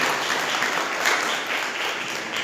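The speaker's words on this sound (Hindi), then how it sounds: "ताली मार के धन्यवाद परमेश्वर को।" Congregation at a live Sunday church service claps together in thanks; steady, dense applause throughout the short stretch, moderately loud with a roomy echo.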